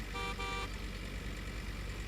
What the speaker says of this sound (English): How many times are you gonna honk the horn, Nexxus?